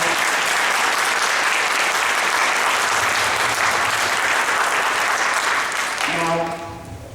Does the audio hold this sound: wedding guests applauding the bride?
yes